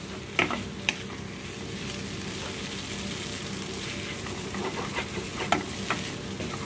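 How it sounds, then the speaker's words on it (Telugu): Egg noodles stir-fry in a pan with a constant, close sizzling hiss, broken by a few sharp scrapes and taps of the spatula against the metal. "తర్వాత వచ్చేసి చాలాసేపు ఇదే విధంగా మనం వేయించుకోవాలన్నమాట"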